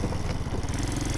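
A custom 1967 Honda CT90 motorcycle fitted with a swapped-in YX140 engine rides along, its engine giving a steady, close, rattly mid-pitched drone with a fast pulsing beat and no talk.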